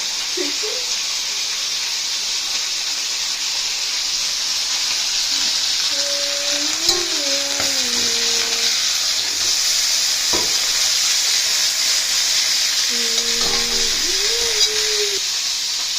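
A whole chicken fries lightly in oil for a roast, producing a constant bright hiss near the pan with a few soft stirring knocks and faint tonal squeaks in the background.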